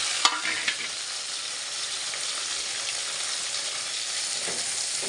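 Onions fry in a hot pan, making a steady, moderately quiet sizzle with a couple of soft clinks of a stirring utensil near the start.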